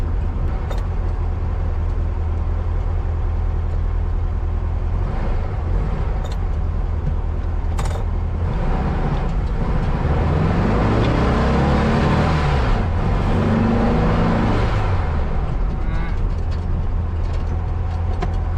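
A 1964 VW Beetle air-cooled engine running steadily with a knock, a loud constant rumble that swells briefly in revs partway through, heard up close with no talking.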